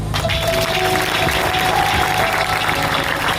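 An audience claps loudly and steadily throughout, a dense continuous wash of applause from a crowd, close and full.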